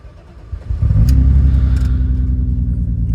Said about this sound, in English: Exhaust is super loud.